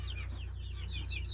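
Chickens cluck softly in a homemade coop built from leftover construction materials, a few high chirping calls over a steady low electrical hum, fairly faint and with no talk.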